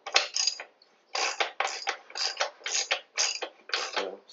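Wheel axle being tightened on a Triumph Tiger 800 XRx motorcycle, heard as a close series of short ratcheting clicks in repeated bursts separated by brief pauses.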